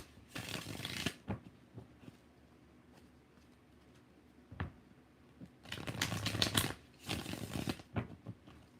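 Tarot cards being shuffled close up: several soft riffling bursts of card flutter separated by quiet pauses and light taps, with no talking.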